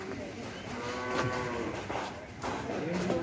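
Large cattle on a farm give several drawn-out moos at close range over a low background hum, with a faint voice in the mix.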